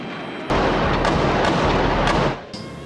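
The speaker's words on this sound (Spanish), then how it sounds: "los disparos retumbaban por los pasillos del palacio" A burst of loud, rapid gunfire rattles continuously for about two seconds with a booming, reverberant echo through palace corridors, then cuts off.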